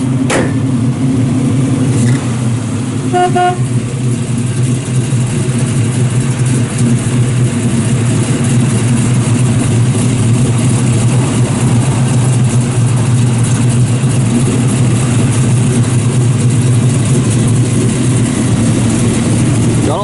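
A 1966 Chevrolet Nova SS with a professionally built 383 V8, aluminum heads, roller cam, stainless headers and Flowmaster exhaust idles steadily with a deep, loud rumble throughout, close up and with no talking.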